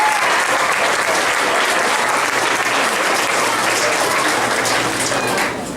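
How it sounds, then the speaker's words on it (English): An audience at an elementary school graduation ceremony applauding the graduating class, loud, continuous massed clapping that stays full before easing off at the very end. "let's give them a nice round of applause"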